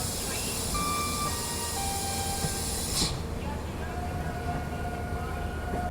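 Shatabdi Express train (12015) rolling out of Jaipur Junction, heard from inside an AC chair car: a steady rumbling carriage drone with hiss and faint tonal whines, a brief louder swell around the middle, continuous throughout with no clear speech.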